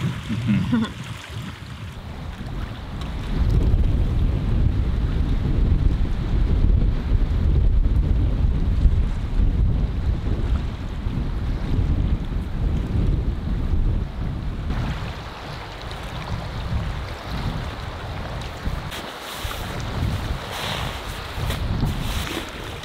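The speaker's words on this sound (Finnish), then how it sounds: "Tuuli on kyllä yltynyt selkeästi." Strong wind gusting outdoors, buffeting the microphone with a loud, rumbling roar that swells and eases in waves, with a watery, surf-like wash behind it.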